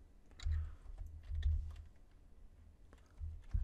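Settings are typed on a computer keyboard for a Simulink simulation: irregular bursts of soft, dull keystrokes close by, with brief pauses between clusters and no voices.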